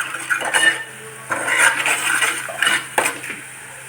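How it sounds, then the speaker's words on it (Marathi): Peas are stir-fried in a pan with salt, heard as close clattering scrapes and clinks of a utensil against the metal, coming in short bursts with pauses between them. "वाटाणे व्यवस्थित परतून घ्यायचं आहे."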